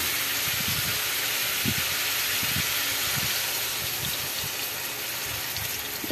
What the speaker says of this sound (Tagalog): Lagyan natin ng tubig konti para maluto talaga siya.